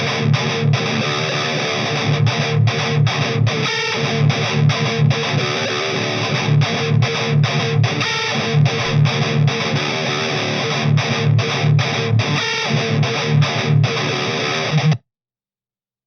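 Heavily distorted electric guitar played through a PV 5650 amp simulation in the Audio Assault Amp Locker plugin, loud chugging palm-muted riffs with choppy rhythmic stops, running steadily for about fifteen seconds before cutting off.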